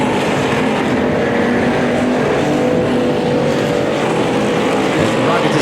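A race car at Revolution Raceway Park roars hard through a turn, a loud, steady engine drone filling the whole stretch, with an announcer talking over it.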